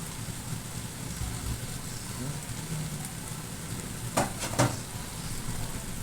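Long beans are cut straight into a hot frying pan for coconut-milk shrimp with eggplant, giving a steady close sizzle with two brief clattering pieces dropping in near the end.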